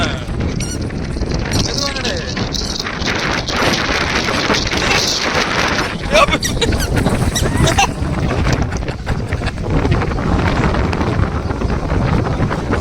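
Strong seaside wind at Kanyakumari buffets the microphone in a loud, continuous roar, with water noise blended in and voices talking faintly under the gusts.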